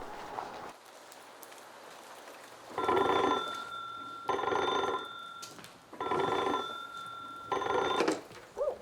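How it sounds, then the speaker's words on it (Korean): An old telephone at Daejeon prison rings in repeated bursts, each about a second and a half long with short pauses between, loud and close over a quiet background. "얼마 후 대전 형무소로 긴급 전화가 걸려온다."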